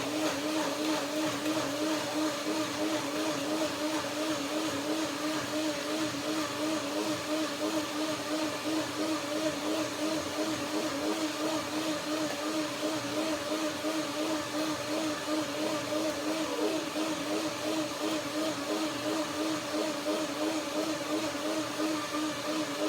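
A blender whirs steadily, blending ginger omega cream with dates for a hazelnut apple salad, running continuously at a loud, even pitch with a faint wavering tone throughout.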